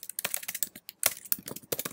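Computer keyboard keys typed in a quick, uneven run of clicks, close and clear, while entering a Conjur command at a terminal for setting up Azure Service Principal credentials; no voices.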